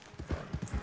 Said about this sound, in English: The horse's name is Charles